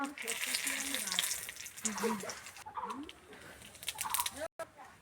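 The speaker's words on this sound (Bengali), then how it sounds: "প্রথমে কড়াতে তেজপাতা দিয়ে নিচ্ছি" A bay leaf hits hot oil in a karahi wok as the first step of a chicken and potato curry. It gives a quiet, steady sizzle heard under intermittent talking.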